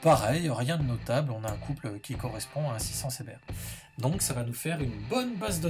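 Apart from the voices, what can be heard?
No everyday noises stand out.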